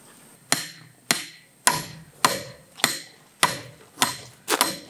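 A hammer strikes a concrete stake eight times at an even pace, each blow a sharp, close metallic crack with a brief ringing decay, outdoors with no talk.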